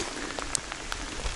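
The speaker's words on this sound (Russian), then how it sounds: "как начал дождь идти, не переставая. Все, шел и идет." Steady rain patters down outdoors in the taiga during a thunderstorm on a mushroom-hunting hike, a soft continuous hiss dotted with a few sharper individual drops, fairly quiet and close, with no voices.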